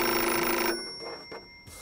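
A red emergency-hotline telephone rings in Far Cry 6, a loud steady electronic ring for about three quarters of a second that cuts off, followed by quieter game ambience.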